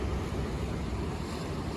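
Steady ocean surf rolls onto the beach shore at Santa Catalina Beach, a continuous broad wash of breaking water mixed with wind buffeting the microphone, with no voices.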